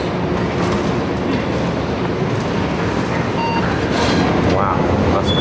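Ride on a Stockholm Metro train, a constant loud rumbling roar of the moving carriage with faint squeals and rattles, and some speech mixed in.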